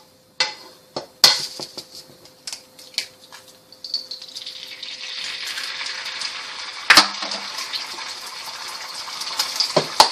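Two eggs cracked into a very hot pan: scattered clinks and taps, then a sizzle that builds into a steady crackling hiss, with sharp utensil knocks over the frying.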